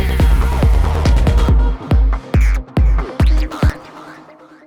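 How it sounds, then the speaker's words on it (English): A squelching psytrance synth patch built in Pigments, loud and resonant, with a fast run of rubbery pulses that breaks into slower, choppier bursts with gaps of silence between them. "How to create that squelching sound you can hear in Psytrance."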